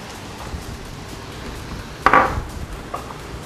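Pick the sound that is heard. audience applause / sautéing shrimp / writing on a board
sautéing shrimp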